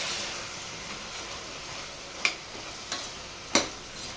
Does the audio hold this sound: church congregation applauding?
no